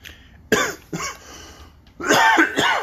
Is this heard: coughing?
yes